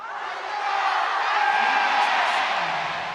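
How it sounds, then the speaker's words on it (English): Arena crowd at a League of Legends MSI main-stage esports match cheering and yelling, a loud sustained roar of many voices with shouts and whoops swelling slightly in the middle. "The crowd doing their best to wake them up"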